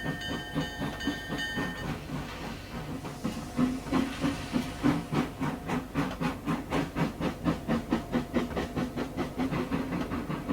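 Twin steam locomotive helper engines, numbers 401 and 403, in a 1901-era Trainz railway simulation at West Robson, BC, giving off rhythmic chuffing exhaust and hissing steam with a steady clanking beat, close and fairly loud, no talk.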